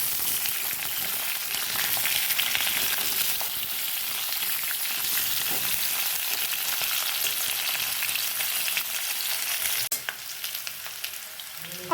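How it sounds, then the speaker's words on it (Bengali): Potatoes frying in hot oil for aloo dum, a dense steady sizzle that holds evenly throughout with occasional small stirring knocks near the end. "এবার আলু ভেজে নেব।"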